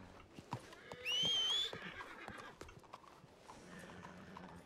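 Horse hooves clip-clopping in the RedM western role-play game, a steady run of light hoof knocks with a brief whinny partway through, heard close under quiet game ambience.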